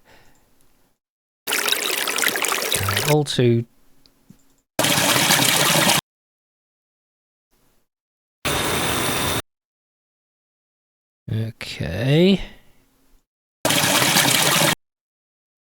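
A waterfall sample played back in Bitwig sounds as four separate bursts of loud, broadband rushing water with abrupt starts and stops, and a short spoken phrase falls between them.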